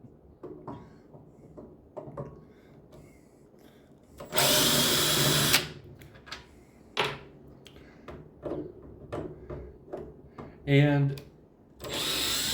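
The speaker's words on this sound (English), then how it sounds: "Maybe I need to turn the clutch up on my drill a little bit." A power drill whirs in a couple of loud, sustained bursts while removing screws from a power tool being repaired, with clicks and clatter of screws and parts between them and a brief spoken word.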